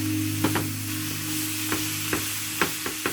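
Zucchini sautéing in olive oil in a skillet, a steady, close sizzle and hiss with a low hum beneath, broken by irregular scraping and clicking as a utensil stirs the pieces.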